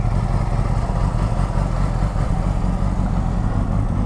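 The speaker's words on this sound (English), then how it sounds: "Fires up. She needs to warm up before I go ahead and give it a bunch of revs." A 2009 Yamaha R6 sport bike idles just after starting, a steady, close, even mid-pitched engine burble with a slight clatter, holding constant with no revving and no voices.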